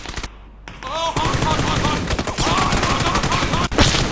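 Rapid automatic gunfire in the PUBG video game arcade mode, bursts of shots running almost continuously and loudly, with game sound effects mixed in and a brief dip near the end.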